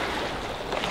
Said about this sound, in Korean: 와, 배 지나가니까 파도 와요